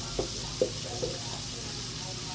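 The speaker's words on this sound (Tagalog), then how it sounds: "May mantika pa rin na pumuputok, lalo-lalo na pag binabaliktad na." Hot cooking oil in a home kitchen pops three times in sharp, separate bursts over a low steady sizzle while food fries, fairly quiet and without talk.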